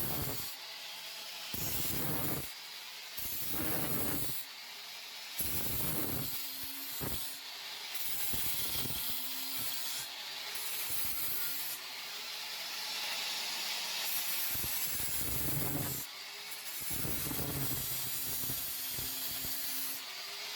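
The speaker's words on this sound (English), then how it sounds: "And there is your cookie grinder." A grinder fitted with a cookie sanding disc grinds a cast aluminum cockpit rail for a 1960 MGA 1600 Roadster, a steady abrasive rasp in repeated passes broken by brief pauses.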